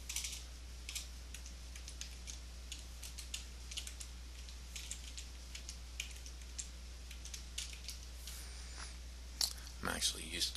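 Rapid, light clicking of keys on a computer keyboard, an uneven rhythm of taps at close range over a low steady hum, with a few louder clacks near the end.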